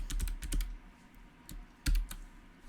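Keys clatter on a computer keyboard as a chat message is typed, a close burst of quick clicks, a pause, then a few more taps.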